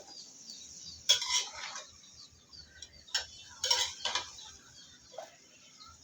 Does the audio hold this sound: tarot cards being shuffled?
no